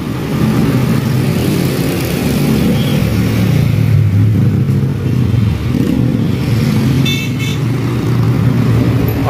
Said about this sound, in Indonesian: seperti ini kondisi arus lalu lintas yang mengarah ke Sukabumi terpantau padat ya